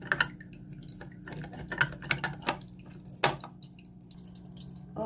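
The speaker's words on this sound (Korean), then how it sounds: "지금은 물 높이가 낮아서 물소리가 좀 많이 들려요." A Daiso hang-on aquarium filter spills water into a tank with a low water level, making irregular close drips and splashes over a quiet running hum.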